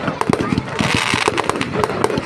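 Firecrackers burst at an army Diwali fair in rapid, uneven volleys of sharp pops and crackles, with voices mixed in among the bangs.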